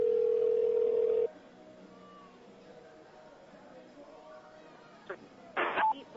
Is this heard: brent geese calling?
no